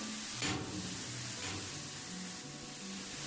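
Continuous hiss of steam venting in the Rec Room Crimson Cauldron game, a broad steady rushing spray with brief louder bursts, while low tonal game music plays underneath.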